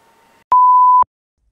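A single steady electronic beep from an iCarsoft diagnostic scanner, loud and clear, lasting about half a second, with faint low hum before it and silence after.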